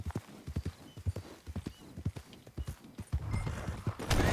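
Video-game horse hooves clip-clopping in a quick, regular trot, crisp close hoofbeats that grow busier and louder toward the end, with no talk over them.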